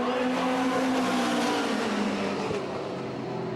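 Super stock race cars lapping a dirt oval at Redwood Acres Raceway during a trophy dash, a steady loud engine roar with a slowly falling pitch as the field sweeps by, continuous throughout.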